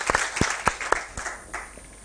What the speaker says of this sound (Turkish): bir alkış onu alalım